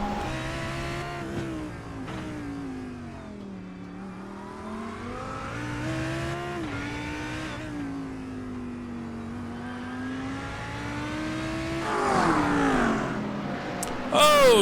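GT3 race cars, a Lamborghini among them, racing in a sim-racing game. Sustained engine notes rise and fall with shifts and revving, and a faint commentator voice talks over them. Near the end the engines surge louder and there is a brief squeal.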